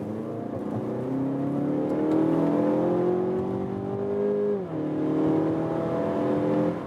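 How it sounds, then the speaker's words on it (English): A car engine revving hard during a 50 to 110 km/h acceleration test, pitch climbing steadily, dipping briefly at a gear change, then rising again; loud and continuous, no talking. "the engine was really screaming, crawling for RPMs"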